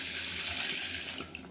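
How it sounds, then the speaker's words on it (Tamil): Tap water runs steadily into a vessel while moong dal lentils are washed, a close, even rushing hiss that is brief and uninterrupted. "பருப்பை நல்லா கழுவி எடுத்துகிட்டு வந்துடலாங்க"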